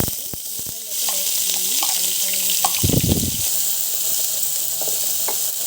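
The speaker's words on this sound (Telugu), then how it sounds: "ఆయిల్ వేసి ఉల్లిపాయలు అయితే వేగుతున్నాయండి." Onions fry in hot oil for a chicken curry, giving a steady close sizzle with a few brief clatters of stirring, loudest around the middle.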